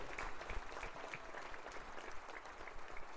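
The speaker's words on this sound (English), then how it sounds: "How about a big round of applause, senior Melanie Hoyle." Spectators in a gym on volleyball senior night give a senior player a round of applause, a steady, fairly distant wash of many hands clapping that continues throughout.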